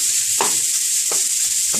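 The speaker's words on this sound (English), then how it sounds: "take your spatula and break the beef apart" Ground beef sizzles steadily in a skillet while a spatula breaks it apart, with three distinct scraping strokes over a constant loud frying hiss.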